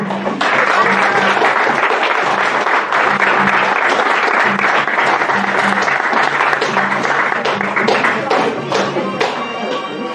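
A large audience applauds dance students after their presentation, with dense, sustained clapping and some cheering that holds steady for about ten seconds. The sound is loud and close, and faint voices run underneath.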